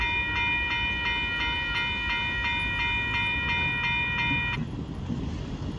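A northbound KCSM mixed freight train with Ferromex power rumbles steadily past. Its horn sounds a long series of repeated, evenly spaced blasts that stop partway through, and the roar of the passing cars continues.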